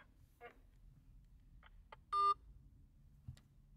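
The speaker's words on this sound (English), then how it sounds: "Beep." After a phone call ends, a telephone gives a short, clear electronic beep, faint against a quiet background, with a few soft clicks around it.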